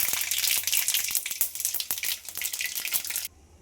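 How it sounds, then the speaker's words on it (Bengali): Mustard seeds hiss and crackle in hot oil left from frying fish, a loud, dense sizzle with sharp popping bursts that runs steadily and then cuts off abruptly near the end. "এবার সেই গরম তেলের মধ্যে প্রথমেই দিয়ে দিচ্ছি সর্ষে"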